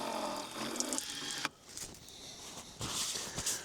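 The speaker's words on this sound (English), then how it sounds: "wash my hands" Onboard water runs from a tap on a Toyota FJ Cruiser at a riverside campsite as hands are washed: a steady splashing stream, a brief pause, then a shorter splash.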